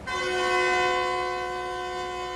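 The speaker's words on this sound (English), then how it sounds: "The train will travel south from the capital city, through the heart of eastern China" A passenger train sounds a long, steady horn at night as it departs southward through eastern China, the tone loud and sustained with a soft rumble beneath and no talk.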